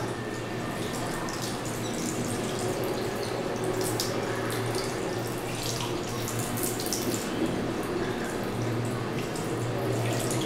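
Cloth diaper being rinsed and wrung out under running tap water, a steady close splashing and gushing flow with small drips and squelches throughout.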